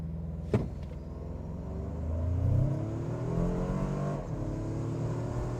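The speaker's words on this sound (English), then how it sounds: "You can really hear that that sucking of air from the air intake there." A Toyota 4Runner Trailhunter in sport mode launches from a brake-torqued standstill, its engine note climbing steadily through the gears with a rising whoosh of intake air, close and continuous after a brief sharp click at the start.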